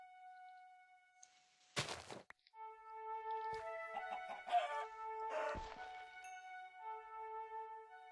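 A rooster in TerraFirmaCraft, a survival video game, gives sparse clucks and tonal calls over a quiet background, mixed with brief sharp impact noises, no voices.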